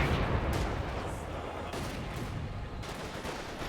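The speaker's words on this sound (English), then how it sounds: "big hits from some 120mm mortar" Dense gunfire and heavy 120mm mortar impacts roar through a large-team World War II battle video game, a constant loud wall of shots and blasts.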